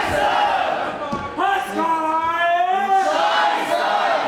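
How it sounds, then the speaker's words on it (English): A wrestling crowd at a GWF show chants loudly in rhythmic unison, rising voices repeating a sing-song taunt in waves with a commentator's voice underneath. "You can hear the crowd with the chants that they've traditionally used to antagonize Spalter"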